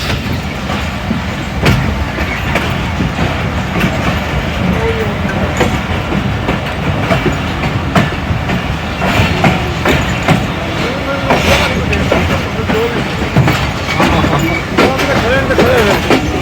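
Aboard the Awam Express passenger train from Golra Sharif to Lahore on a foggy run, a loud, steady rumble of wheels and carriages continues throughout, with rhythmic clatter and faint voices mixed in.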